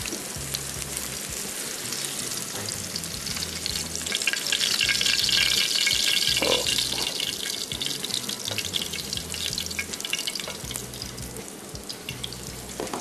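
Dahi qeema kababs frying in a hot pan give a dense, steady sizzle that swells briefly in the middle, with a faint running-water wash underneath and no voices.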